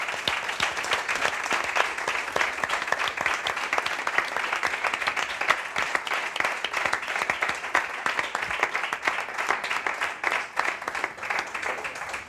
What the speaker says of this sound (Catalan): Doncs un aplaudiment